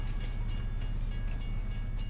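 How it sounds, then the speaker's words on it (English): A passenger train rolls past a farm field during harvest, a loud, continuous rumble with rhythmic wheel clatter throughout, close by and with no voices. "Beautiful, beautiful train. That's a passenger train, isn't it?"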